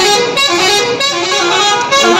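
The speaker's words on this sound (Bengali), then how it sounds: "হর্ন দিয়ে দিয়ে মাথা খারাপ করে দিল" Vehicle horns honk continuously and loudly in a village traffic jam, several horns overlapping in a dense, unbroken blare across the whole stretch.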